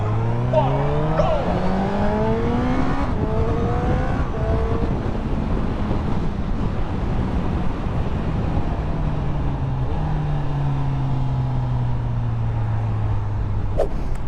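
Honda CB1000R Black Edition 2021 motorcycle accelerating hard through the gears on a road test, engine pitch climbing and dropping with each shift, loud and close, with steady wind rush throughout.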